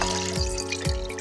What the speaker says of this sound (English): Now take them out of the cold water.